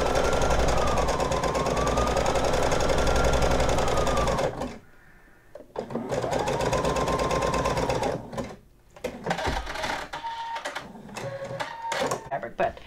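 A sewing machine stitches stretchy sequin fabric in loud, fast mechanical bursts, starting and stopping several times. A voice talks between and over the runs.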